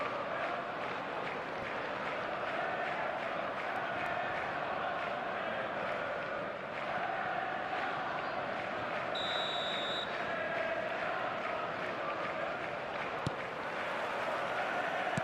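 Stadium crowd on match day in the eFootball 2026 football game, a dense, steady roar of massed voices holding at even loudness throughout, with a brief electronic tone near the middle.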